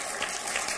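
Audience applause at a Hindi poetry recital, a steady dense wash of clapping heard from within the hall and sustained through the whole brief moment.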